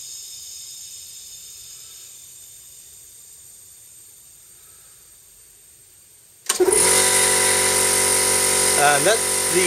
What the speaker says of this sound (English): that's the compressor kicking in